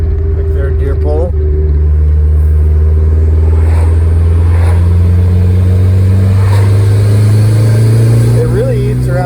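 Turbocharged Ford Ranger pickup engine pulling hard in third gear, a loud rising drone climbing steadily in pitch as it accelerates, with someone talking over it.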